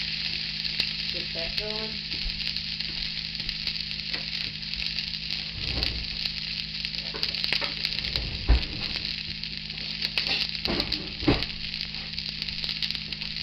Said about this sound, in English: got my butter melted. I'm gonna saute my onions first.